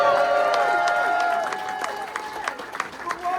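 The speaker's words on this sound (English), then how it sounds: "Give him a round of applause, please, our brother" Applause and cheering from a live audience at a Brooklyn club show, steady clapping filling the room while a voice talks over it and a held musical tone carries underneath.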